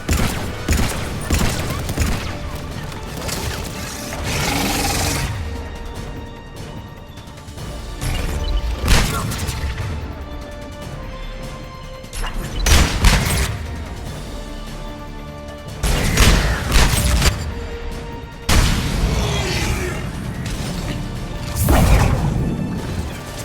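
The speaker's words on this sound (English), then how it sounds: "Why are you shooting at me?" Gunfire and combat in Mass Effect 3 Legendary Edition inside the Geth Consensus, repeated bursts of loud crashing shots and impacts in clusters every few seconds, separated by calmer stretches of droning game soundtrack.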